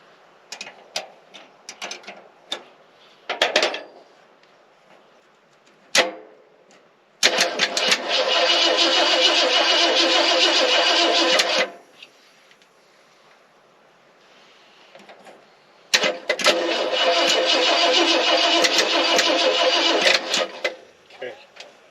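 A 1963 car engine, unrun for 25 years, is cranked in two long bursts of several seconds each, whirring loudly and closely. Short clicks and clunks from work on the car fall before and between the bursts.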